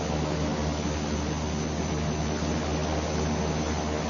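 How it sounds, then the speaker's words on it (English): Steady, distant rotor and engine drone from a V-22 Osprey tilt-rotor aircraft lifting off a ship's deck, a constant broadband roar with no breaks. "Lifting vertically off a ship's deck, the V-22 Osprey acts just like a helicopter."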